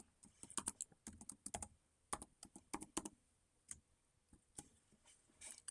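A password is typed on a computer keyboard in irregular bursts of quiet, close key clicks separated by short pauses.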